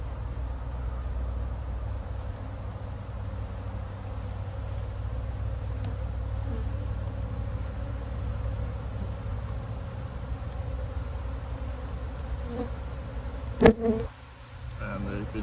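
Honey bees buzz steadily on a hive frame that is mostly full of honey, a dense low drone continuing throughout with a brief bump near the end.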